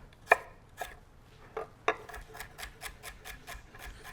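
Knife chopping a celery stalk finely on a board: a few spaced, sharp cuts, then a quicker steady run of crisp close chops with no talking.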